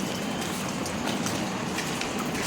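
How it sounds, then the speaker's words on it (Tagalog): Light drizzling rain makes a steady, even hiss of fine droplets with scattered soft ticks, continuous and fairly close, with no talking. "Wala na, ambon na lang."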